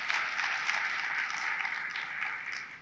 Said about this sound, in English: Can we clap our hands?